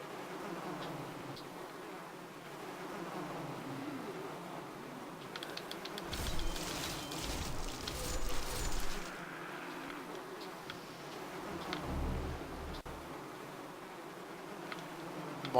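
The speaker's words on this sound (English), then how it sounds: "Well, the cacophony of bees." Bees buzz steadily in the Demon's Souls video game, a low droning hum that swells louder for a few seconds in the middle, with game ambience underneath and no talking.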